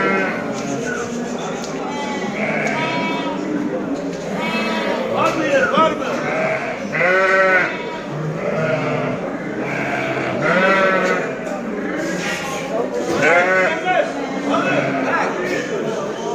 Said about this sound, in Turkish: Huzurlu koyunlar da gelmiş arkadaşlar.